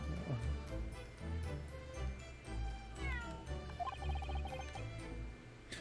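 A cat meows in the video game The Great Ace Attorney Chronicles, giving drawn-out rising and falling meows over steady game music and chiming tones.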